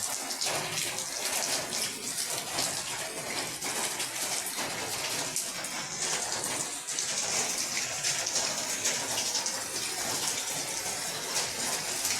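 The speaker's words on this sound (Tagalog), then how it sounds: "Malakas ang ulan." Dense, continuous rain hisses loudly and steadily, a constant wash of water with no breaks, close by.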